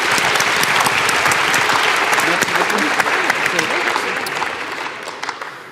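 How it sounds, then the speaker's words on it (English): A conference crowd at a humanitarian event gives a full round of applause for the panelists, sustained close clapping that gradually thins and fades toward the end. "I'd like to invite you all to join me in a round of applause for our panelists"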